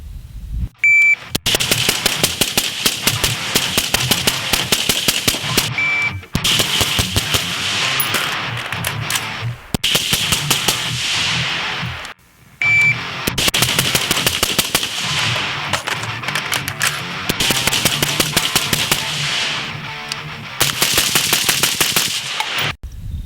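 Rifle fire through a Griffin Armament M4SDK quick-attach 5.56 suppressor: several long bursts of rapid, closely spaced suppressed shots, loud and near, separated by brief pauses.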